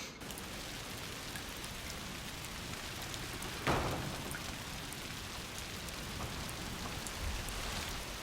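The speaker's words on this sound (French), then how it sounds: "Il pleut, bergère." Steady, even video game rain from A Plague Tale: Requiem patters across a wide area, with a brief sharper crackle in the middle; no voices.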